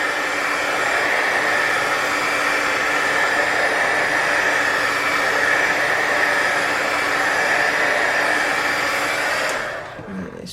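A heat tool blasts a steady, loud whooshing roar for about nine and a half seconds while warming the taped edges of a chalk pastel and paint piece, then cuts off abruptly near the end.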